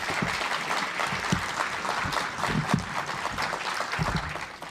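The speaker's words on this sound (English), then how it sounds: "Well, let's give another round of applause, please, to Dr. Jayne Major." An audience applauds after a conference presentation on family law and parental alienation in Toronto, steady, moderately loud clapping from a crowd that holds evenly for several seconds.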